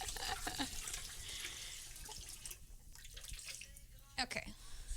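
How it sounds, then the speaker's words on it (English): Tap water runs steadily into a cooking pot for rice at a kitchen sink, a continuous splashing rush with a voice talking over it. "So you add water, and you swirl, and the water is cloudy"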